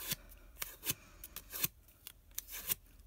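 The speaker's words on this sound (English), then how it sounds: "I took my butterfly using my bone folder" A bone folder rounding a paper butterfly for a card, heard as several sharp scraping swipes against paper in an uneven rhythm, close and moderately loud, with no talk.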